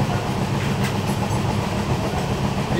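Inside a carriage of a moving Indian passenger train, a steady loud rumble with rhythmic clickety-clack of the wheels on the rails fills the space, with no voices.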